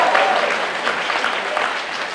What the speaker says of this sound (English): If you want to see it, let's hear a round of applause.